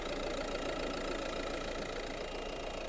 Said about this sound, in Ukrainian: Дивончик працює рівненько, без зауважень